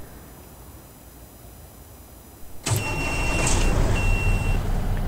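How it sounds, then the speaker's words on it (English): A truck engine in American Truck Simulator cranks and starts at about 2.7 seconds after near silence, then settles into a steady, loud idle with a faint high whine on top. "I'm in my truck and first thing you want to do is start it."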